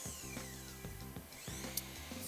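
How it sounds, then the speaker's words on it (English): An Ozito mitre saw fitted with an Irwin blade cuts through timber, a sped-up, buzzing motor hum with repeated rhythmic pulses as the blade bites the wood, steady and close with no talk. "the Irwin blade blitzes through the timber really nicely"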